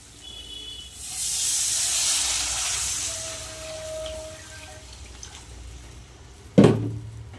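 Water poured into hot fried spice paste for a Bengali katla fish curry, a loud sizzling hiss that swells and slowly fades, followed by a sharp clink of a utensil near the end.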